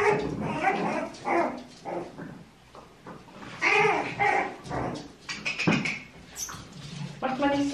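Several Cairn Terrier puppies yip and bark in short, high bursts in a garden, mixed with a person talking nearby.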